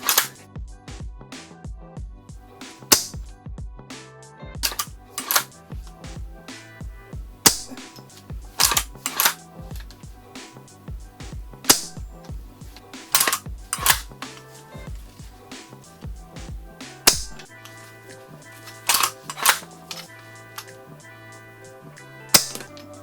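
A G&G LevAR 15 gas-powered lever-action airsoft rifle fires during a chrono test, giving a series of sharp, loud, close cracks at irregular intervals with mechanical clicks of the lever between shots.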